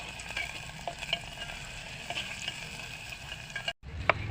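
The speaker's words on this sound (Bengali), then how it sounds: "আবার এটাকে একটু ভাজা ভাজা করতে থাকি।" Chopped onions fry in a pan with turmeric and salt for biryani, a steady, soft sizzle with small crackles throughout and a brief near-silent break close to the end.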